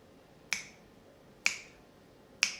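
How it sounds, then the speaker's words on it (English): Three crisp finger snaps at a steady, unhurried pace during a sing-along, each sharp and close with a brief ringing tail over a quiet background. "if you don't feel like singing, you can just snap"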